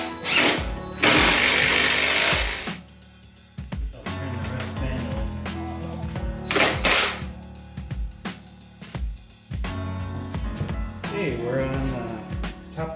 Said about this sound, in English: what I'm doing is I'm drilling some holes right through the bench top through the support brackets